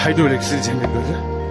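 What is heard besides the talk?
No distinct noise like a dog, phone or traffic.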